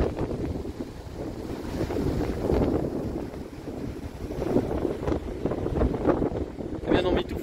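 Strong wind buffeting the microphone on the open deck of a ferry crossing from Greece to Italy, a continuous gusty rumble with water and engine noise beneath and people talking.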